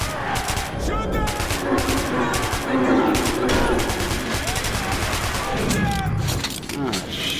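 Rapid bursts of automatic gunfire from the video game Metro 2033 Redux fill the whole stretch, loud and dense, with a voice shouting over the shooting.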